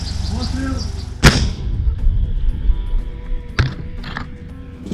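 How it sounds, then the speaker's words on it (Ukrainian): A single sharp, loud boom from an artillery gun, followed by rumbling echoes, then a second fainter report a few seconds later. "Гармата!"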